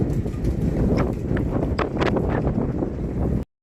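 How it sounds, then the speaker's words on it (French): Strong storm wind roars steadily against the microphone, with creaks and rattles of rigging and a boat moving throughout, then cuts off abruptly. "Le vent, tout bouge."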